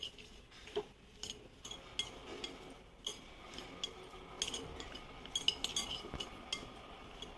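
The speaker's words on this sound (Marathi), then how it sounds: "आणि मग पहिले सगळे हे मसाले लावून याला कोट करून घेऊयात" Okra being coated by hand with spices and salt in a home kitchen: faint, irregular clinks and light taps of a bowl and utensils with soft handling noises, no talk.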